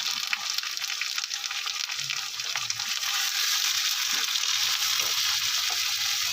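Bhetki fish pieces frying in hot oil as salt and turmeric powder go in, giving a steady, close sizzle with crackling spatters and a few scraping stirs, with no one talking.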